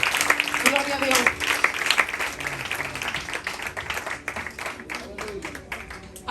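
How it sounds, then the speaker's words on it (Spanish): A church congregation claps as an offering to God during a Spanish-language service, with sustained, crowded applause under a preacher's continuing voice. "Regálale una ofrenda de palmas a Dios."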